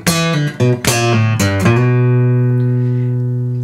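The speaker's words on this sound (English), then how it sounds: "You kind of pull the string off of the fretboard, and the snap happens when it crashes back down on the fretboard." A Delta blues lick on guitar: several quick plucked notes and sharp string snaps as a string is pulled off the fretboard and cracks back down, ending in a long ringing chord that slowly fades, played alone with no talking.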